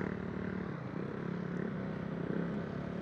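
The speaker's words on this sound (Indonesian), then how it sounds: "Ini anak yang tadi nih, tes motor kayaknya nih." A motorcycle engine drones and revs steadily during a fast test ride, a continuous close rumble with no break and no talking.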